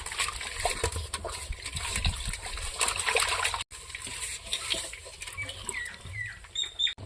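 Washed dried anchovies are tipped into a pot with water, giving a soft patter and trickle of liquid and wet splashing, fairly quiet with a brief pause partway through.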